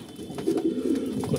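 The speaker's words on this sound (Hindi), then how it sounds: "और दोस्तों कुछ कबूतर हमारे यहाँ बैठे हुए हैं" Soft, low cooing of pigeons close by, a short burst of warbling calls.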